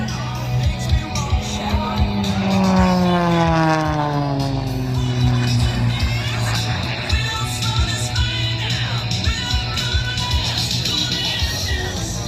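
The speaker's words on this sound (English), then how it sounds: "He'll be setting up, I think, for one more pass down the line, giving you a look at the MXS" An MXS aerobatic airplane makes a pass at the Vidalia Onion Festival Air Show, its engine drone sweeping downward in pitch as it flies by, with outdoor wind and crowd noise throughout.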